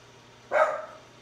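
Single sharp dog bark, close and fairly loud, rising suddenly and trailing off over a quiet kitchen background.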